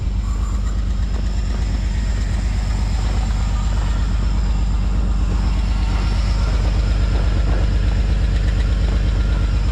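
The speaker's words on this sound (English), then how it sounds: "I would say I safely have an exhaust leak" A Jeep Grand Cherokee with a 4.0 engine idles after a cold start at -11°F. The exhaust leak gives a loud, continuous low chuffing rumble with an even pulse, and no one speaks.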